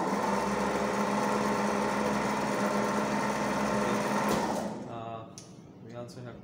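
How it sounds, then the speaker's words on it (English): Three-phase squirrel cage induction motor running in a lab, a loud steady hum and whine that fades out near the end as it winds down, with people talking over it. "Okay, let's turn on the motor."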